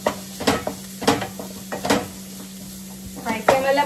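Onions frying in a pan on high flame while being stirred, with several sharp metal spoon scrapes and clanks against the pan over a soft sizzle and a steady low hum.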